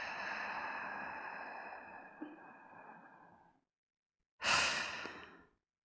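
Slow breathing exercise: a long, steady exhale of about three and a half seconds, a short pause, then a brief, strong inhale, both close and clear with no talking.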